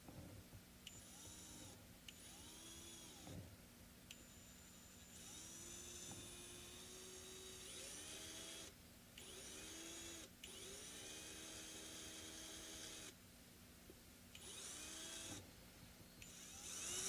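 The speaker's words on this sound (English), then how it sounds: "So let me drill it a little bit deeper." A small drill bores into a Kamaka ukulele bridge, whining steadily in repeated runs with short pauses between, close and fairly quiet.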